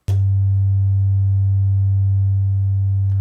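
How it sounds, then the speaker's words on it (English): A Behringer clone of the ARP 2500 oscillator module 1004 holds a sine wave as a loud, steady low hum. It starts abruptly and sustains evenly with a slightly buzzy, overdriven edge, and there is no talk. "oscillator module 1004, the cloned copy, whatever you want to call it, of the ARP 2500 sine wave"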